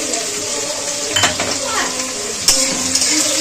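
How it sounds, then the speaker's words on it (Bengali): Sliced onion with slit green chilies frying in a pan after tempering, a light sizzle under clattering of a utensil against the pan, with a few sharper clinks, close by and fairly loud. "পেঁয়াজটাকে একটুখানি লাল লাল করেই ভাজবো।"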